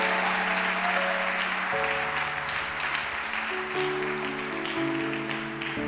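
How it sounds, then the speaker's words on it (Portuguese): A church congregation at a Friday service claps loudly and steadily throughout, a dense wash of applause over sustained keyboard or organ chords that shift several times. "Aplauda o Senhor bem forte"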